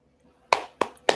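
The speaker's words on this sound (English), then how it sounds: "Can we get an applause on that one?" Three sharp clap-like bursts, about a third of a second apart, stand out against near silence, like a brief burst of applause or a clapper.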